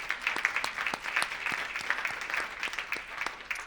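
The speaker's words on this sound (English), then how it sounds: "Can we give him a round of applause, please?" Audience applause at a candidate forum on civil rights, a moderate room of clapping hands with distinct individual claps, steady and fairly near, no talk over it.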